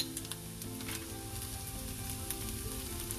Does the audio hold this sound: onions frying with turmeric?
yes